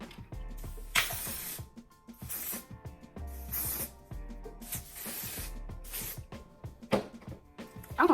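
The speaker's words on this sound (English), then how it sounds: "we're gonna go in with our Wonder Lace spray, and we're gonna spray that on" Several short hissing bursts from an aerosol can of wig lace adhesive spray, spaced irregularly, close up, with soft handling and rustling sounds between them.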